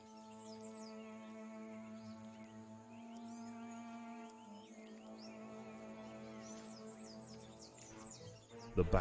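Jungle birds chirp and call in the Empires of the Undergrowth game, with chirps and warbling over a sustained tonal ambient drone, moderately quiet, ending in a louder burst.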